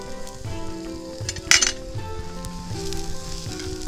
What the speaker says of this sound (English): Now I'm going to put the green pepper shredded in it.